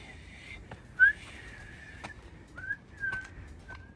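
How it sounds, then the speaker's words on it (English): A man whistles along the Seoul city wall trail, a few short rising and falling notes, one louder chirp near the start and then softer, clipped phrases spaced out over light outdoor background noise. "This guy's whistling."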